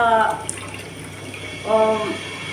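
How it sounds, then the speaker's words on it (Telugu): Water pours from a bowl into a pot of sugar to start a thick syrup for boondi laddu, giving short splashing bursts at the start and again near the end, heard in a home kitchen. "ఈ గిన్నెతో అనమాట గిన్నెన్నర వాటర్ పోసాను"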